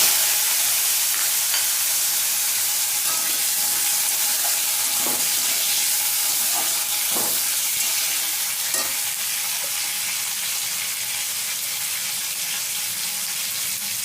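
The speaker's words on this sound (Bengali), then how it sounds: "ফোড়নটা লাল লাল হয়ে গেছে, এবারে কাঁচা আমটা দিয়ে দিচ্ছি।" Raw mango hits a hot reddened spice tempering for mango dal, giving a continuous loud sizzle and frying hiss with a few soft stirring knocks and clinks scattered through, no voices.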